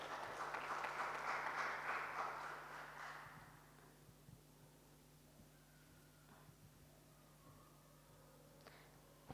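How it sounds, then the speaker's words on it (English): An audience at an international gas pipeline conference in India claps for a few seconds. The applause is soft and distant and fades to quiet room tone. "Can we have a big round of applause for him?"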